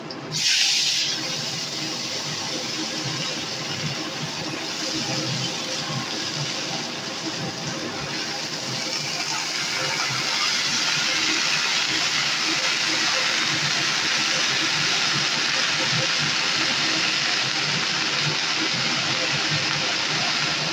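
Mustard greens with turmeric and a chili frying in hot oil in a home kitchen, giving a steady, loud sizzle and hiss that swells after the first second and holds throughout, with faint talk beneath.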